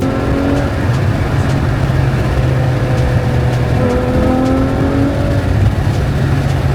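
A car engine hums steadily while cruising calmly on a road with speed cameras nearby, a continuous loud low drone with road and wind noise and slight shifts in engine tone, no voices.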